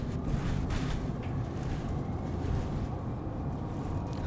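Aircraft thrust reversers roaring just after touchdown, a steady broad low rumble with wind-like noise that stays loud and even throughout, no talk over it.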